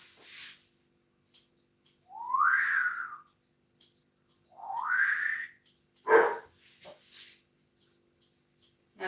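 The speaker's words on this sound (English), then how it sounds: "my dog's just really noisy." A noisy multipoo dog at a grooming session gives two drawn-out, rising whiny yelps followed by a sharper bark, fairly close and alone.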